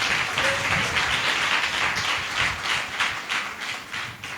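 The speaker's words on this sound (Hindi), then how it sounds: "ताली बजा के प्रभु को धन्यवाद दें।" A church congregation claps hands together in thanks to the Lord, a steady crowd of overlapping claps filling the room at moderate loudness, with no speech over it.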